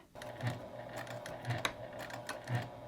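A sewing machine quietly back stitches a hip bag with a key fob, giving soft, repeated mechanical clicks and a low hum at close range.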